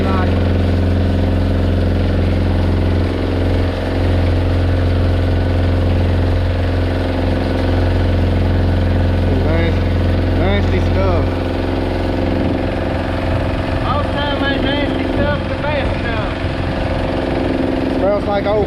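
A planter tractor's engine runs steadily at idle throughout, a loud continuous low rumble, with people talking over it in the second half.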